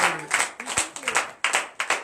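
A congregation at a morning prayer service claps in acclamation, a dense run of uneven hand claps in bursts, close and fairly loud, with a voice briefly heard in between.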